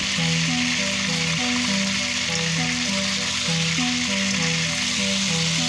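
Chicken pieces sear and brown in a pan over high heat for a Peruvian chicken stew, giving a steady, loud, close sizzle and crackle with soft melodic music underneath.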